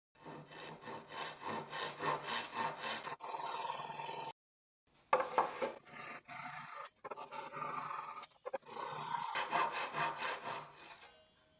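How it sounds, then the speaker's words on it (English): Japanese hand saw trimming protruding wood ends flush, steady rhythmic back-and-forth rasping strokes in several close bursts separated by short pauses. "Here, where the ends are sticking out, I'll cut using the Japanese saw so it's flush."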